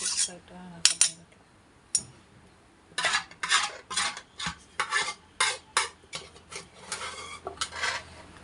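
Leftover chicken curry is scooped from a pot into a bowl: close, repeated scraping clinks of a spoon against metal in uneven bursts, with short pauses between.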